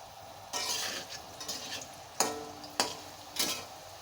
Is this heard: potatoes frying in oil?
yes